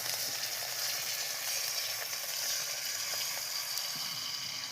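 Food sizzling steadily in a hot wok, a continuous bright crackling hiss with faint scrapes and ticks, close and even throughout with no voices.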